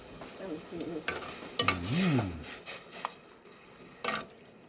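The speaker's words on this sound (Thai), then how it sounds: "ลวกเส้นก่อนนะครับ ลวกเส้นลวกเส้น" Noodles being blanched in a pot of hot water, with scattered clinks and stirring scrapes from the pot, a short hummed vocal sound in the middle, and a sharp clatter near the end.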